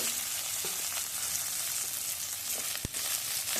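Finely chopped medium onion frying in oil with panch phoron, a steady close sizzle and crackle with an occasional faint knock of a utensil, no talking.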